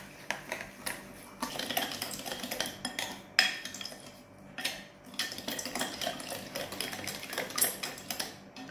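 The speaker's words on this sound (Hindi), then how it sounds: "ऑयल मिला दिया एंड वैनिला एसेंस मिला दिया। इसको भी हम लोग ने एक बार अच्छे से मिक्स कर लिया।" A utensil stirs oil and vanilla essence into eggless cake batter in a bowl, giving soft, irregular scraping and tapping clinks that are faint and close, with no talk.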